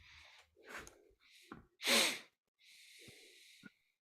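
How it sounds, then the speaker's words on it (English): Heavy, loud breathing right into a microphone comes as a series of sighing, wheezy inhales and exhales, one especially strong breath in the middle, with quiet gaps between and no talk. "I could hella hear someone breathing."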